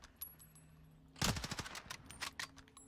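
Video game gunfire from a Call of Duty style shooter with LC-10 and Kar98 weapons: a sudden rapid burst of automatic shots, close and loud, followed by a few trailing pops.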